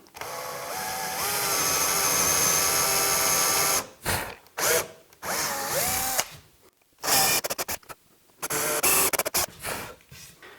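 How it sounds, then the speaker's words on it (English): A power drill whirs steadily for several seconds, then runs in short, stop-start bursts as it bores holes into wood for a drawer box, close and loud. "I'm just going to drill these guys down."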